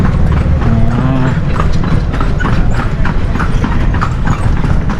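Horse hooves clip-clop in a quick, steady rhythm during a horse ride on an adventure tour in Ilocos Sur, close and loud, with a brief tonal squeak partway through and no talking.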